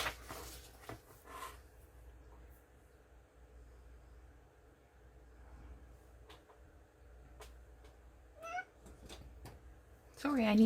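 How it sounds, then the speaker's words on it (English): A pet cat meows a few times, short faint calls with a clearer one near the end, in a quiet room with light handling noises and no speech. "It's been a while since Cat's come to join us."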